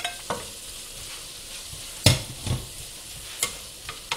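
Onion and mushrooms are stirred in a frying pan, a faint background sizzle broken by several distinct scraping and clattering strokes of the utensil.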